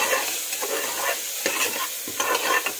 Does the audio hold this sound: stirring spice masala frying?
yes